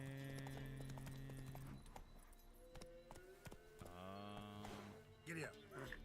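A horse gallops in The Witcher video game, with steady hoofbeats running beneath in-game music and a voice.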